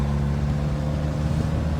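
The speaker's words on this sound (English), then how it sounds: "Now the engine, that Fortec, they always make a little bit of a chattering noise." A Fortec engine in a Pontiac Fiero runs steadily up close, a continuous low mechanical drone with a faint chattering texture and no voices over it.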